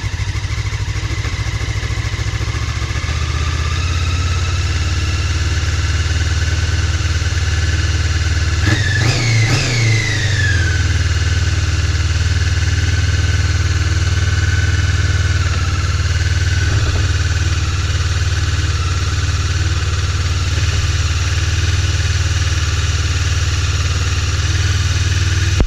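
A Honda CB 500 motorcycle idles steadily on its first start after six months of winter storage, running on choke, with a single quick rev around the middle before settling back to a loud, even idle.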